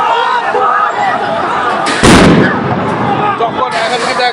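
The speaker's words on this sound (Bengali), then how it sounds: "একটির পর একটি সাউন্ড গ্রেনেড নিক্ষেপ করা হচ্ছে" Sound grenades explode at a street protest, one sharp loud blast cutting through a crowd's shouting and chatter, with dense background noise and voices throughout.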